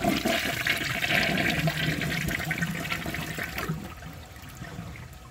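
A 1995 Procemex toilet flushes with a washcloth and a grocery bag in the bowl, a loud continuous rush of water that slowly fades toward a quieter trickle, close and without talk.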